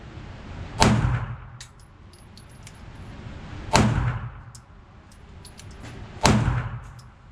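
Three loud, sharp pistol shots from an HK P30-L handgun with an LEM trigger and a ported barrel, fired a few seconds apart at a shooting range. Each report rings out briefly before fading, and small metallic clinks can be heard between shots.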